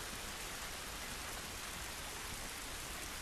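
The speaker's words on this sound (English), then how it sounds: "we're getting rained on with like toxic zombie rain" Steady, dense rain pours down in The Last of Us, a continuous even hiss with no pauses, moderately quiet and with no voices over it.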